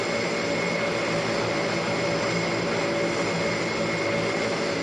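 E-42 turboprop aircraft in Turboprop Flight Simulator, a steady droning engine hum with a constant tonal whine, holding evenly and unbroken throughout with no talk.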